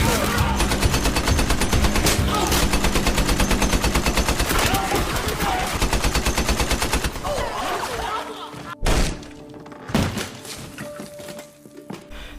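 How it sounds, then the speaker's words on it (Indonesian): Rapid automatic gunfire as soldiers shoot in a comedy film, a dense sustained rattle for about seven seconds, then scattered heavy shots and thuds with a voice narrating over it. "Tentara Korea pun terpecah menjadi 2 kubu dan saling tembak."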